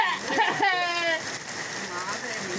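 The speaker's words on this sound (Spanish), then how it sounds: "Está lloviendo mucho ahora." Steady heavy rain patters and hisses close by during a rain and hail storm, with people talking over it.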